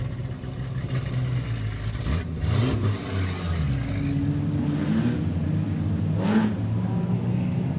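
Production sedan race cars on a speedway main straight during a national title heat, engines revving and roaring continuously with passing surges, loud and close, no talk.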